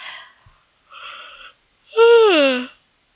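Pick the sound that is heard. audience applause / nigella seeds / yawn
yawn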